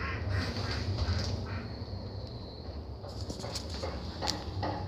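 Geese on a farm honk and cackle in a steady noisy chorus, mid-distance, with sharper calls standing out near the end and no talk over them.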